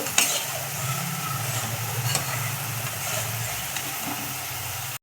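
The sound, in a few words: milk boiling in a pot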